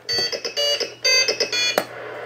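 A Cobra 148 GTL CB radio gives a string of short, bright electronic beep tones in quick bursts, ending in a sharp click, fairly close and clear with no talking.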